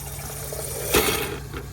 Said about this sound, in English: So that's the sputtering that I was talking about. And you can actually hear the water filling up the filter